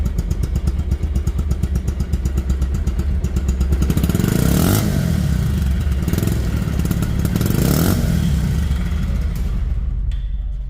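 Second-hand Bajaj Pulsar ABS motorcycle idling close up, a loud steady engine thrum with a throttle blip that swells the rumble midway, then settling back to a running idle.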